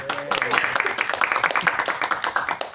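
A small crowd claps after a win at a contest, a short burst of brisk, close clapping that tapers off, with some voices briefly at the start.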